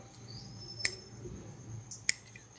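Two crisp finger snaps about a second apart, sharp and isolated against a quiet background hiss.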